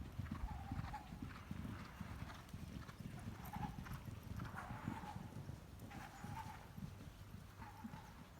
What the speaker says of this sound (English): the horses are running